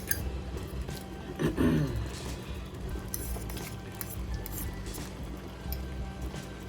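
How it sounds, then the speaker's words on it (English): A braised lamb chop sauce being stirred in a pot, with soft clinks of utensil against the pot and a low bubbling simmer, close and steady. "Stir, of course."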